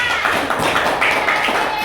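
Applause from a classroom after a group presentation, a short burst of scattered hand claps close by, with a voice briefly audible.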